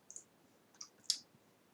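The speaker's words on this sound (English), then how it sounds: "I'm going to click create" Three quiet, crisp computer mouse clicks, close and isolated, the last one sharpest.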